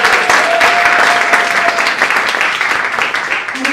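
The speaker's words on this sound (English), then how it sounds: "Please give him a big round of applause." A crowd applauds steadily to welcome a young Ohio politician at a gathering, the clapping dense and loud from start to finish with no break.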